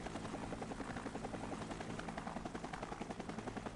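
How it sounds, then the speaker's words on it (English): A military helicopter in the video game Air Conflicts: Vietnam, its rotor beating in a rapid, even rhythm over a dense engine roar that stays continuous and close throughout. "this fucking chopper is so slow"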